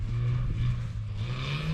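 A small enclosed go-kart-like front-wheel-drive vehicle drives along with a continuous buzzing engine drone, fairly close and steady throughout the short stretch.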